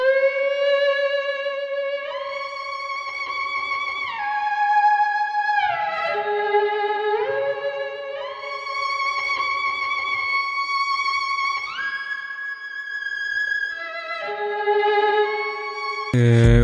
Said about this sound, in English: the violin alone sounds like this